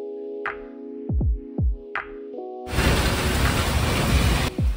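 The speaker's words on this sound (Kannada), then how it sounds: "ಮಳೆಗಾಲದಲ್ಲಿ ಆ ಮಳೆ ಶಬ್ದ ಕೇಳಿಸ್ಕೊಳ್ಳೋಕೆ ಅದೆಷ್ಟು ಖುಷಿಯಾಗುತ್ತೆ." Steady monsoon rain hiss fills the second half after a few sharp metallic clinks and taps, close and fairly loud.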